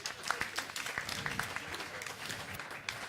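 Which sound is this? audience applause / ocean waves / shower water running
audience applause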